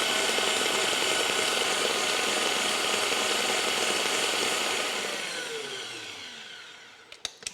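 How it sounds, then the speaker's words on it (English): An electric mixer whips sponge cake batter with a loud, steady whirring drone that slows and winds down near the end, followed by a few brief clicks, with no talking. "Start your mixer on slow, then speed up so the sponge is whipped and will be nice and light."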